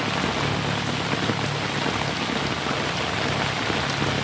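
Heavy rain pours down in a dense, steady hiss that fills the whole stretch without a break, with no voices over it.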